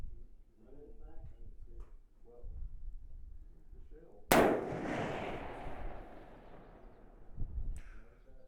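A single sharp, loud Remington 1903A4 WWII sniper rifle shot cracks out midway and rings off into a decaying echo, with quiet talk before and after.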